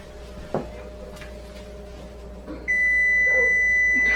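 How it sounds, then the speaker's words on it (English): A steady electronic oven timer beep for a baking cake starts partway through and holds continuously to the end, loud and close, after a quieter stretch of faint kitchen noise. "Now we got a cake buzzer."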